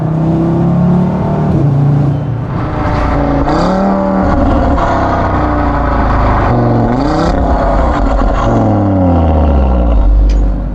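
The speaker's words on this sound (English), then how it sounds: "And also the 5-cylinder. I mean, just listen to it." A tuned Audi RS3 five-cylinder engine revs up and down repeatedly, loud and close, with rising and falling tones and a gruff exhaust note.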